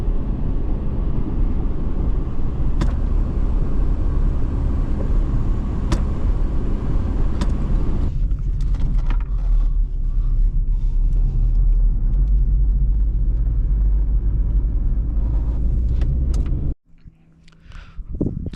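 A front-wheel-drive 2003 Mazda Protege drives through snow, its loud, steady engine and road rumble continuing without a break before cutting off abruptly near the end.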